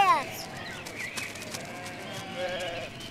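Sheep bleat several times while being herded amid a noisy outdoor din, with children's voices chattering and calling in the background.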